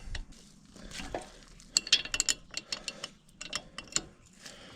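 An 11mm wrench works a loosened brake line fitting on a G20 BMW 330i during a stainless steel line install, giving faint metallic clicks and ratcheting taps that come in quick irregular bursts, with no talking.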